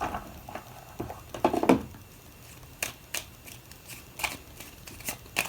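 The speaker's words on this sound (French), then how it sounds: "je vais nous tirer une petite carte, du petit oracle des fées de Claire Duval" Light papery flicks and riffles of a small fairy oracle deck by Claire Duval being shuffled by hand before a card is drawn, irregular soft snaps close up, with no talking.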